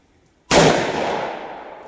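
A single .357 Magnum revolver shot with a 3-inch barrel fires at a shooting range, a sharp, loud, close blast after silence that rings out in a long, fading tail.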